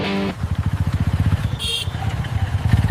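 A motorcycle passes close by on a road, its engine putting out a rapid, pulsing putter that stays fairly loud for a few seconds, with a short tonal blip partway through.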